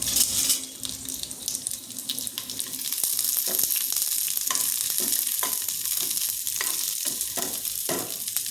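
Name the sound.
frying coconut, ginger, green chili and garlic in oil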